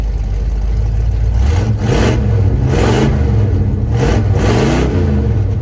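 An old V8 in a Chevrolet S10 pickup truck runs loud and close, a steady lumpy idle rising into several short revs and falling back.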